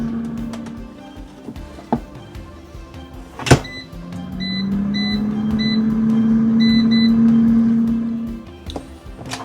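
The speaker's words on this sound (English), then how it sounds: "We're going to preheat our air fryer to 375." An air fryer preheating to 375 degrees for salmon runs with a steady electric motor hum that rises for several seconds, with a few sharp clicks and beeps from its controls.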